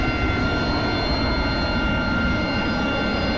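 AV-8B Harrier jet engine idling in the DCS flight simulator, a steady loud whine and roar with constant high tones, unbroken throughout and with no talk.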